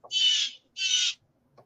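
Blue jay giving two harsh, raspy calls in a row, each about half a second long, loud and fairly close, with a faint bird sound at the end.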